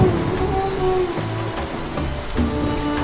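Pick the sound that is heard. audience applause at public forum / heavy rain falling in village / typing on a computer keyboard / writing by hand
heavy rain falling in village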